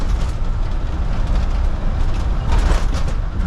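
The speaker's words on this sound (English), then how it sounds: "this truck is throwing me off, man. It bounces a lot." A front-load trash truck on its way to the landfill gives a loud, steady rumble from inside the cab, with broadband rattling and jolts as the truck bounces along. No one speaks.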